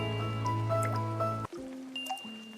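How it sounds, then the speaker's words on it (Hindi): Water dripping into a bucket set beneath a leak in a house at night, a few close liquid drips and plinks over a short stretch, with no talking. "नीचे रखी बाल्टी में पानी अब नियम से गिर रहा था"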